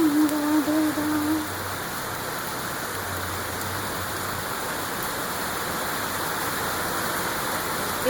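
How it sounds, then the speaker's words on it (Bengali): Heavy pouring rain falls over a city on a rainy monsoon day, a steady dense hiss of downpour that fills the whole stretch, with a brief tonal whine near the start. "৩-৪ দিন থেকে মুষলধারে বৃষ্টি ঝরছে"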